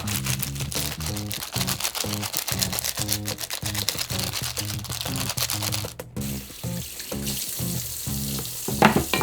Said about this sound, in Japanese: こうやってネットの中に入れたままゴリゴリやると簡単だ